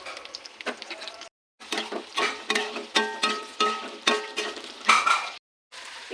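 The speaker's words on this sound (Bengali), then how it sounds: "কড়াইতে তেল দিলাম, তেলটা গরম হয়ে গেলে পেঁয়াজ দিয়ে দিলাম।" Onions hit hot oil in a kadai and are stirred, bursts of crackling sizzle rising and falling in rhythmic strokes with brief scraping, close up, broken by two short silences, no speech.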